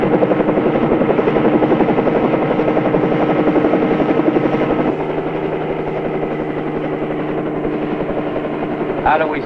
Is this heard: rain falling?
no